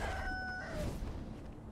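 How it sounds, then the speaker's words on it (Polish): An enraged rooster crows in the video game Sekiro, a harmonic call that rises and then slides down over about a second, with a hissing, busy game ambience underneath. "Ale póki co muszę jeszcze zabić wściekłego koguta."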